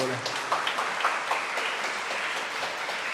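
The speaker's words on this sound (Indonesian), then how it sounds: "tepuk tangan lagi, boleh" Congregation applause during a Catholic Sunday Mass in a church, welcoming a visiting young people's group: continuous, moderately distant clapping with a reverberant, roomy wash and a few louder claps in the first second.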